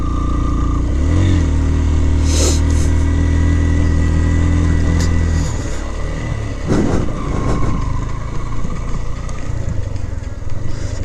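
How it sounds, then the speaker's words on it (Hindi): A motorcycle climbs the mountain road up to Toli Peer in Kashmir, its engine droning steadily and close with a few shifts in pitch and load, then settling into a rougher, quieter running note. "लेकिन हम लोग घोड़ों पे नहीं जाएंगे, हम बाइक पर ही जाएंगे जहाँ तक जा सकेंगे।"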